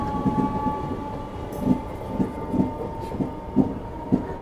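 A Chennai local train rolls past with rhythmic clickety-clack from the wheels over rail joints, a steady rumble underneath and a constant tonal hum, no voices.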